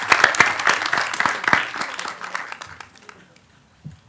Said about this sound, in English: So a round of applause for him for all that he's achieved.